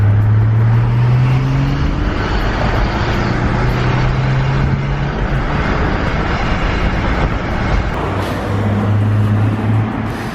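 A car's deep exhaust drone from inside the vehicle, an Audi A4 3.0 TDI with the muffler deleted, steady and loud, with the low engine note rising and falling as it accelerates and the turbo kicks in.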